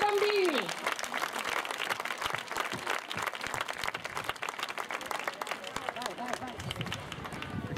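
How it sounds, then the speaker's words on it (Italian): A crowd applauds children at the closing evening of a summer recreation camp, held in the youth centre. The clapping is loud, dense and continuous throughout, with a brief tonal whine at the start and some crowd noise mixed in. "Un applauso grande a questi bambini."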